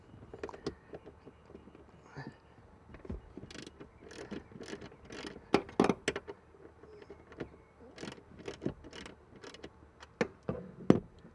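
Seat bolt on a 2021 Toyota Tacoma being loosened with a socket and ratchet: repeated close clicking ratchet bursts and metallic clacks in uneven spurts, with quiet gaps between them and no talk.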